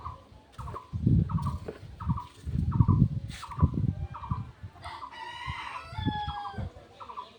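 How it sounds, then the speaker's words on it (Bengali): Nearby farmyard chickens cluck in short repeated bursts while a rooster crows loudly once or twice, the calls coming in an uneven rhythm with no voices. "যখন ভিডিও করে তখন হয়তো হাঁস ডাকে মুরগি ডাকে"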